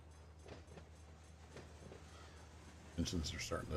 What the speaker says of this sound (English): Engines are starting to head down.